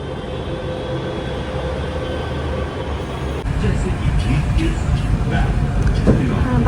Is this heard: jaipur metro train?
yes